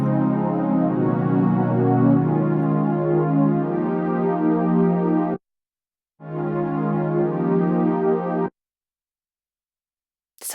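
Piano chords played in a progression that includes a diminished seventh, ringing full and sustained for several seconds, stopping, then resuming with another sustained chord passage before cutting off.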